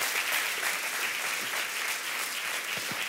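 A church congregation applauds together, a dense, steady patter of many hands clapping at moderate volume, continuous throughout with no speech over it.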